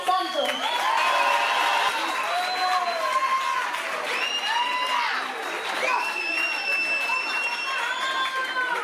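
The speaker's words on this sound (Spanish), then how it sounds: "vamos a recibir todos y todas con un fuerte aplauso a Davinia García Santos" Sustained audience applause and cheering at a festival proclamation event in Villanueva de la Vera, steady and dense throughout, with whoops and crowd chatter mixed in.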